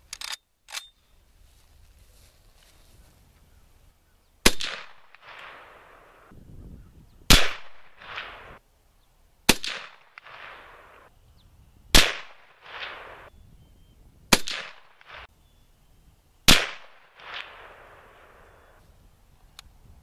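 Seven sharp rifle shots from an M1 carbine in .30 caliber, fired outdoors at a target, spaced a few seconds apart, each loud crack followed by a short echoing decay.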